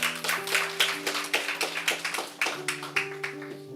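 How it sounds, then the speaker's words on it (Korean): Scattered hand claps from a church congregation greeting a woman stepping forward during a prayer service, a steady patter of claps over a sustained organ or keyboard chord, moderately close. "박수"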